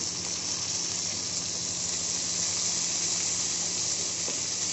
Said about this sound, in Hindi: प्याज को भी हम हल्का हल्का इसको भून लेंगे।